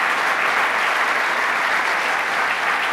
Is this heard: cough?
no